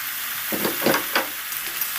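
Kundri (ivy gourd) and potato frying without water in a covered pan over medium heat, giving a steady sizzle with a few louder crackling bursts as the pieces are stirred.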